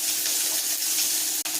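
Small chopped shallots frying in hot oil with mustard seeds and urad dal for a greens stir-fry, a steady dense sizzle close by with one brief dip near the end, no voices.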